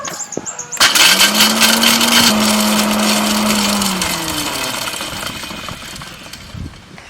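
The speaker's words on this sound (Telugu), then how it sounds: "ఇలాచి మిక్సీ పట్టుకుందాం." A kitchen mixer grinder whirs loudly as it grinds cardamom pods for homemade kulfi, starting abruptly after a brief lead-in and holding a steady motor drone that gradually slows and fades near the end.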